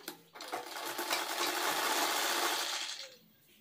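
A sewing machine runs steadily for about three seconds, stitching fabric around a sleeve panel, a dense continuous whirr that starts abruptly and cuts off near the end.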